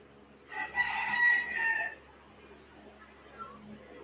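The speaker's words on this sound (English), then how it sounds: "you guys can still hear the rooster. The roosters, I should say." Roosters crowing outdoors, one long drawn-out crow at moderate distance followed by quieter background, with faint room tone.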